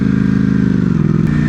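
Steady, loud rumble of an idling V4 motorcycle engine, a deep pulsing grumble with an even low throb that holds close and unbroken throughout.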